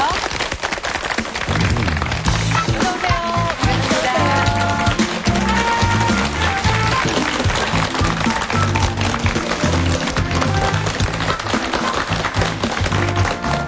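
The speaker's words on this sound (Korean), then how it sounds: "박수 보내주세요" A television studio audience applauds to welcome a 48-year-old speed skater guest: loud, dense, sustained clapping over music, with a brief spoken greeting.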